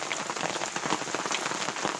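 Rain falls steadily outside a snow camp, a dense close patter of drops on a surface with no gaps and no voices.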